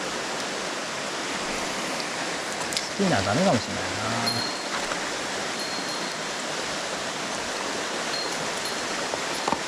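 A strong, icy-cold mountain stream rushes past in a constant loud broadband wash. Someone speaks briefly over it near the middle.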